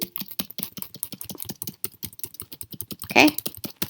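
Fast, close typing on a computer keyboard, a dense run of light key clicks with one louder thump near the end, with no speech.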